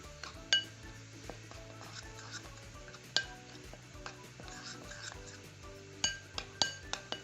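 Flour coating and salt are mixed in a bowl: a utensil clinks and taps steadily against the bowl with several sharper knocks, close and fairly quiet, with no talking.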